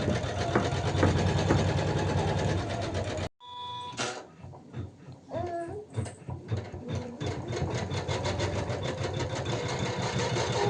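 A small sewing machine runs in a fast steady whir for about three seconds, stops with a sharp cut to near silence, then starts again in short stop-start bursts before settling back into a continuous close, fairly loud mechanical buzz.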